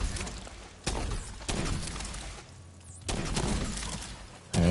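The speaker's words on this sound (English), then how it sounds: "Start shooting." Gunfire in The Division 2 during a team fight, loud bursts of shots breaking out in several waves with sharp impacts and clatter between them, a near, dense battle texture with no voices.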